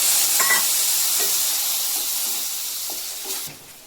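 Ground turmeric, coriander, cumin and dried chili powder sizzle and hiss steadily while being fried in a pan, a close continuous sizzle that fades slightly toward the end, with no talking.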